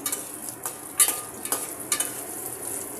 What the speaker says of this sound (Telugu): ఉల్లిపాయలు వేసి ధనియాలు వేయాలి